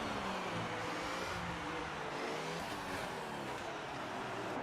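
Formula 1 cars race in the F1 2018 video game, with a sustained, loud engine roar and shifting pitch as they run close together on track. The sound is continuous, with no voices heard.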